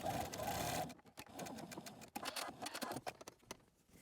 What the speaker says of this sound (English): We're just sewing the darts.